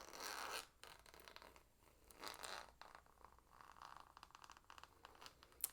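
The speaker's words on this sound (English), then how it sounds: "It looks just like a wallet that you would zip up and put in your bag" A zipper on the built-in wallet of a leather crossbody bag is drawn open and closed in several soft, close, scratchy runs, faint and intimate with no talking.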